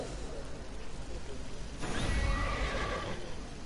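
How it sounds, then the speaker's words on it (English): A horse in the Neverwinter video game lets out a clear neigh, a single whinny rising over a low background hum. "For we have a horse now."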